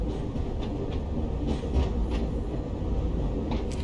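A 1938 stock electric train with vintage bridge transition traction control runs along the track, a steady loud rumble with faint rhythmic clicks of the wheels and no talking.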